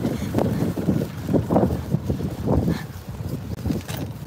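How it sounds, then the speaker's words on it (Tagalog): Strong wind blows outdoors in a large shopping area, buffeting the microphone with loud, rumbling gusts that swell and fade in uneven pulses throughout. "Ooh, but windy. Very windy."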